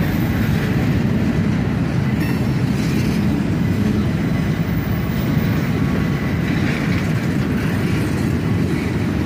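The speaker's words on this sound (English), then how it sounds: "CSX 707 and ES44 ACH leads the train around this sharp curve in Hamilton" A CSX freight train led by an ES44AH locomotive, number 707, rolls around a sharp curve in Hamilton, Ohio: a steady, loud rumble of wheels and cars passing close by, with faint squeals, continuing throughout.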